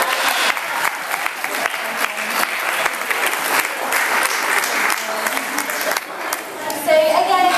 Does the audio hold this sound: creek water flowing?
no